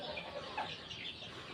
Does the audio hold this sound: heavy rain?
no